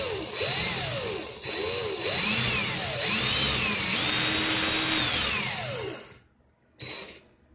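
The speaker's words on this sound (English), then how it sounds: "So I'm going to stick the 40 gauge into my drill" Cordless power drill spins steadily to wind 40 gauge wire into a coil, a loud close whine rising and falling in pitch over several seconds before stopping abruptly, followed by a short click.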